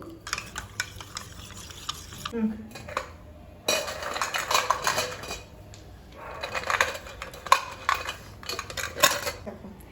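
A spoon stirs fruit salad with palm sugar in a bowl, giving close clinking and scraping against the bowl in irregular bursts with brief pauses, and no one talks.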